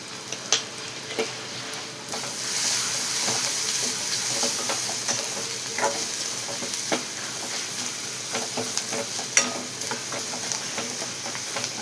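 Onion, tomato, turmeric and masala are stirred in a pan, giving a soft continuous sizzle of frying with scattered scraping clicks of a spoon against the metal.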